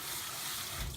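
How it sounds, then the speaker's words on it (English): Cold tap water runs steadily over dark buckwheat soba noodles in a kitchen sink, a continuous close splashing rush that swells slightly near the end, with no talking. "They like you to rinse them with cold water, so that's what I'm going to do."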